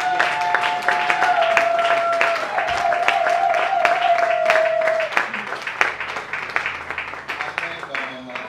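Audience at a Christian women's conference applauding and cheering, loud continuous clapping from many hands with an organ-like sustained tone in the first half, thinning toward the end.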